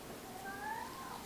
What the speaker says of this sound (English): It's not a weird sound, it's my cat.